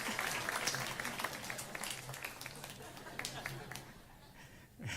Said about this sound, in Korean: 우리 박수 한 번만 쳐주세요.